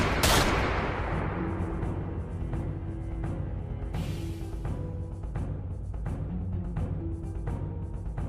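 A volley of gunfire rings out from an execution squad in a Runescape lore story: a sharp loud burst at the start, then scattered cracks and rumbling echoes trail off over a low sustained drone.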